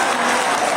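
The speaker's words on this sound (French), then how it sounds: "alors faisons un applaudissement" Audience applause in a hall after an evening concert, a dense wash of clapping heard close and loud for under a second before cutting off abruptly.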